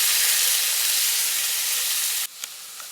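Onion, mustard, poppy seed and cumin paste hits hot oil in a home kitchen: a loud, close, steady hissing sizzle for about two seconds, then a sudden drop to a much quieter hiss with a faint tap.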